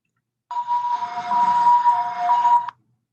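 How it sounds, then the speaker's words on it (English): An ambulance siren in Taiwan wails loudly for about two seconds, a steady wavering tone that starts and stops abruptly. "So here is what an ambulance looks like and sounds like in Taiwan."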